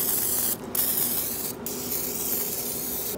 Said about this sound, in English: Spray it down with some butter.